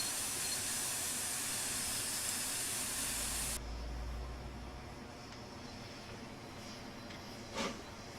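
A steam locomotive, BR Tornado 60163 in the Train Simulator 2016 game, gives off a loud broadband hiss that cuts off abruptly partway through. A quieter rushing hum follows, with one short burst near the end.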